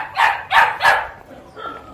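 A dog at a Vietnamese farm with chickens barks three times in quick, loud succession close by, followed by a softer whine or yip.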